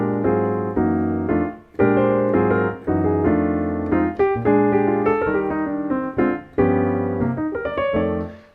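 Piano playing a jazz lick from a rhythm-changes tune, dense chords and fast dissonant runs moving in quick bursts, loud and close with no voices.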